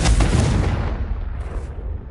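Confringo fire-blast spell cast in the video game Hogwarts Legacy, a loud explosive burst that booms at the start and then rumbles and fades over about two seconds.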